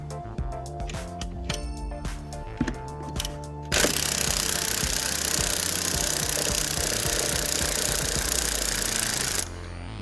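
Impact gun working on a bolt on an Alfa 145 under restoration, a loud continuous rattling hammer burst lasting several seconds after softer mechanical clatter, then stopping abruptly.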